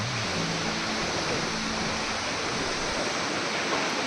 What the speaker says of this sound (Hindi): आपने इस फव्वारे को देखा, इस झरने को देखा जिसे हम वसुधारा कहते हैं